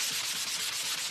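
A 220 grit sanding block scrubs lightly across a lettered craft surface, giving a continuous, bright, close rasp with slight stroke-to-stroke pulsing and no voices.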